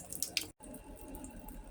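Water dripping from a leaking home water heater, a few quick close drips with a brief cut of silence, over a steady low background hum.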